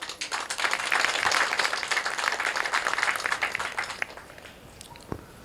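Audience applause at an outdoor garden inauguration ceremony, a dense burst of many hands clapping that holds steady for about four seconds before thinning out into a few scattered claps.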